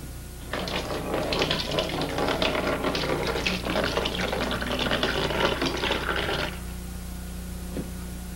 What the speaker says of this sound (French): vous devez maintenant soutirer votre bière de votre tourie à votre cuve de fermentation primaire